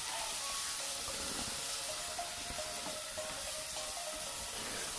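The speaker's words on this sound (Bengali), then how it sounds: "এরপরে এই পেঁয়াজের সাথে এই চিংড়ি মাছগুলোকে হালকা একটু ভেজে নেব" Prawns fry lightly with onion in a pan, a steady close sizzle that stays even and continuous throughout.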